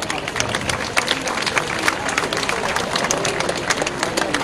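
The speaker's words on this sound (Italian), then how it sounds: "Un applauso." Lively crowd applause at the 37th Arbëreshe song festival in San Demetrio Corone, with sharp individual claps standing out over a steady patter and some background chatter mixed in.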